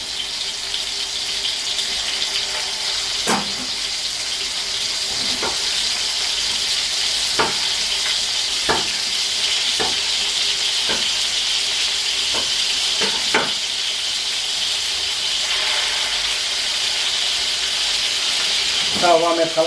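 Fideuá noodles fry and brown in a wide pan in a Gandía-style preparation, a steady hissing sizzle with scattered crackles and pops, faint voices in the background.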